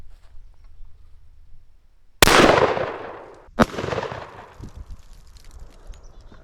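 Two loud, close shotgun blasts from a Stoeger Double Defense side-by-side 12 gauge, birdshot then buckshot fired at a pumpkin, each sharp report followed by a decaying outdoor echo, about a second and a half apart.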